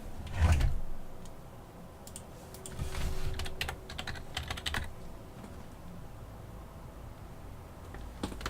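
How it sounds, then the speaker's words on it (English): Someone types a message on an iPad, producing a string of soft, irregular taps and clicks at close range, clustered in quick bursts against a quiet room background. "I was typing a message on my iPad"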